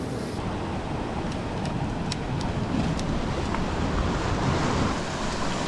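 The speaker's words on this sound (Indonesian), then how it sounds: "Tapi ombaknya jahat." Ocean surf rolls and breaks steadily on a sandy beach during shore fishing, a continuous broadband wash with wind noise on the microphone and no voices.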